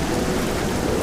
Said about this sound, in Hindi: कड़कड़ाती बिजली, गड़गड़ाते बादल और ज़ोरों से चलती हुई हवा